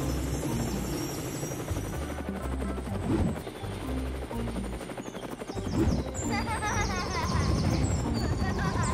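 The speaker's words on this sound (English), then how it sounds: "Let's board to the helicopter." A cartoon helicopter flies in an animated dinosaur rescue adventure. Its steady rotor drone runs under busy cartoon effects, including rapid rattling bursts and high chirps.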